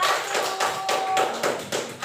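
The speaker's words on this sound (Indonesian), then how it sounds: "tepuk tangan dong untuk kelompok 1" A class claps for group 1 in a school lesson: a handful of rhythmic, fairly soft claps or taps in a steady pulse of about five beats, with no speech over them.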